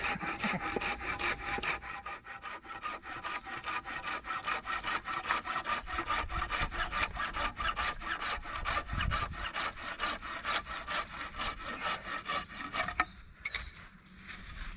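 A hand saw rasps steadily through wood outdoors in the woods in fast, even strokes for a long stretch, close up, then the cutting stops abruptly near the end.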